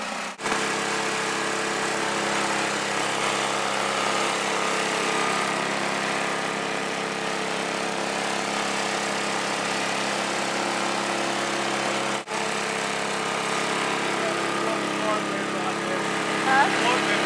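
Snowblower engine running during a snowstorm, a loud, steady near drone that holds evenly throughout with only one brief dip.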